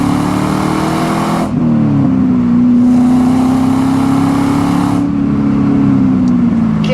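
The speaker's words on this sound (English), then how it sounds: "Go ahead and have a little bit more of an aggressive acceleration here." A 2001 Pontiac WS6 accelerates hard, its V8 engine droning loud and close, with tone dropping at a gear shift and then rising again with strong roaring bursts.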